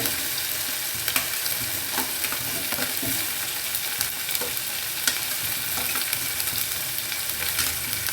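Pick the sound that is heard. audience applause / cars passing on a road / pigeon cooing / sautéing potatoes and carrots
sautéing potatoes and carrots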